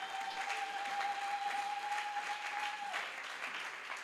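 A church congregation at an Easter seminar applauds in a sustained, even burst of clapping that carries on steadily throughout, with a sustained tone sounding underneath for most of it.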